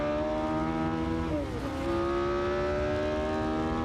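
Classic race car at Silverstone circuit, engine note holding a steady high drone, dipping briefly as the revs drop and then climbing again as it accelerates, heard close and continuous.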